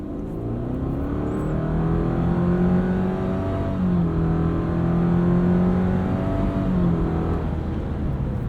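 A 2019 Subaru Forester Sport engine revs and accelerates continuously, pitch rising and dropping through gear changes, heard from inside the vehicle without talk.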